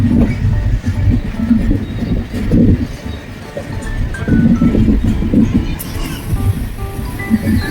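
A goods train runs on the Delhi–Bareilly–Lucknow main line, heard from a passing express: a loud, continuous rumble of wheels on rails with dense rattling throughout, and no clear pauses.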